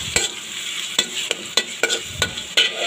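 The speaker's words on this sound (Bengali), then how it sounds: "পেঁয়াজ কুচিটা আমি ভালো করে হালকা বাদামি করে আমি ভেজে নেব" Chopped onion sizzles in hot oil while a utensil scrapes and stirs the pan in sharp, fairly regular strokes, close and loud, with no talking.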